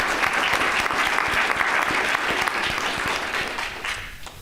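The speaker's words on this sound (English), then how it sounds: "I just want to give a round of applause to Mr." Steady audience applause at a school board meeting honoring Mark Crapo, a dense continuous patter of clapping hands that holds even throughout and thins slightly near the end.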